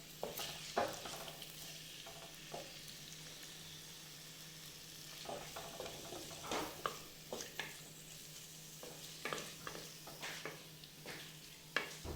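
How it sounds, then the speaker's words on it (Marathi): Marinated prawns fry and sizzle in ghee for a Mangalorean prawn ghee roast, a steady hiss broken by repeated stirring scrapes and clicks near the end, with no talking. "ह्या तुपावर त्या तुपावर आपण हा मॅरिनेट केलेला प्रॉन्स भाजून घेणार आहोत किंवा तळून घेणार आहोत"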